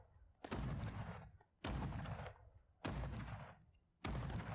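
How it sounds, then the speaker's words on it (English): A cannon tower fires in a tower defense game built in Dreams, four heavy booming shots at an even pace about a second apart, each with a rumbling decay. "I'm going to add a cannon tower."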